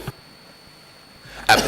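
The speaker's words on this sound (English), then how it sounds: "That's the Chair's coughing." A short cough right at the start, then near silence before a second, louder burst of coughing near the end, during a council planning committee meeting.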